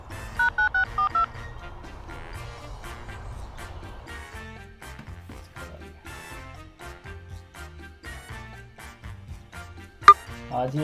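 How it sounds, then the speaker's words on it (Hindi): Telephone keypad dialing tones as a call is placed: a quick series of short beeps near the start, followed by a quieter ringing tone and background noise, with a sharp click near the end. "फिर अभी फ़ोन बुला लेता हूँ"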